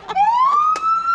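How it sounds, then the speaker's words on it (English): A police car siren starts on a rising wail inside a parked patrol vehicle, loud and close, climbing steadily in pitch and holding, with no voices over it. "if you push this button right here, that's gonna make your siren go."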